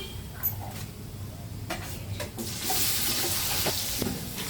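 Chopped tomatoes tipped into a pan of frying onions and whole spices for chicken biryani, setting off a close, hissing sizzle that swells and holds steady after a few clinks and scrapes, with no voices.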